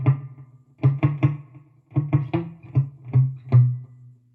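A guitar plays the lower section of a song: short picked notes fall in small repeated groups with brief gaps between them, close and clear, with no voice over them.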